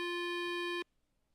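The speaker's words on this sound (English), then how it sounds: "Now we're gonna make a phone call." A single steady electronic phone tone sounds during a call in The Lawyer video game, holding clearly for under a second before cutting off abruptly to near silence.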